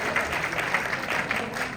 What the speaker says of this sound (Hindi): तालियां एक बार फिर और फिर।